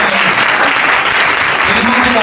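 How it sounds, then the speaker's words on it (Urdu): A church congregation at an Urdu/Hindi sermon breaks into loud, sustained clapping, a dense continuous wash of many hands close by, with voices faintly underneath. "تالیاں بجا کے خوش ہو کے کہنا"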